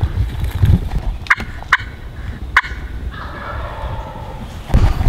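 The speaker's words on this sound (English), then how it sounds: "We just heard them gobble again, and they're further away" Wild turkeys gobble in the distance during a hunt, with several sharp, brief gobbles cutting through a busy outdoor background and fainter calls following after them.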